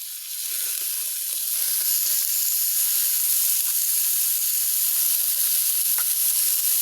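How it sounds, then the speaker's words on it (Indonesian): Steady close sizzle of sate maranggi skewers cooking on a butter-greased Teflon pan over a Happy Coal stove, a continuous bright hiss with no talk. "Jadi ini kita bakarnya di teflon ya, di happy coal."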